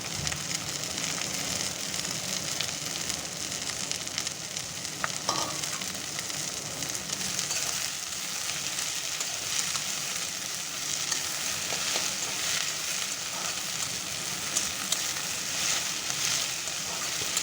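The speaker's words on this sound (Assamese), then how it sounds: "এয়া এতিয়া ছজিনা পাতখিনি মই ইয়াত কিছু সময়ৰ বাবে ভালদৰে ভাজি ল'ম" Drumstick leaves fry in a pan with a steady, even sizzle that holds at the same level from start to finish, with no voices.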